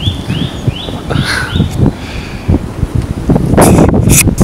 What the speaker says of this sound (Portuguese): Vento muito forte, Paçoca, olha.